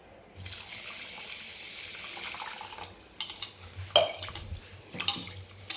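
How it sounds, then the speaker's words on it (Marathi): Jeera rice grains being rinsed two or three times in water for a dhaba-style egg biryani, with a soft steady trickle of running water and a few sharper splashes and sloshes near the end. "त्याला आपण आता छान 2-3 पाण्याने स्वच्छ धुवून घेऊ।"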